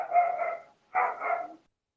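A dog barks in two loud bursts in the background of an online voice call, each burst a rapid flurry of barks lasting under a second.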